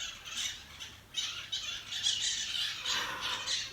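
Harsh, rasping squawks from a bird repeat in bursts, loud and close, with no talking over them.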